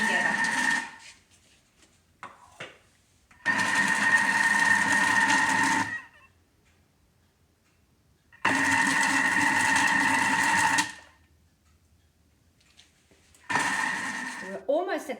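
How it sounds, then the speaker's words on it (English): A Thermomix TM6 in dough mode kneads dough in bursts, a loud whirring motor running for a few seconds, stopping, then starting again, with a person talking in the gaps. "So what it's actually doing is stretching the dough and then relaxing it."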